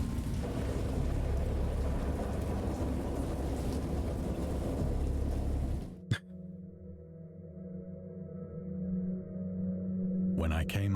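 A thunderstorm in the Dagon video game: heavy rain roars steadily, then a sharp crack of thunder cuts it off, leaving a rumbling tail before the downpour surges back.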